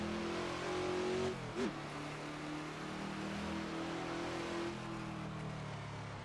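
A Ford Transit van in Assetto Corsa, driven on the Nordschleife, holds a steady droning engine note that rises and shifts, with a brief tire squeal and then continued acceleration close up and fairly loud.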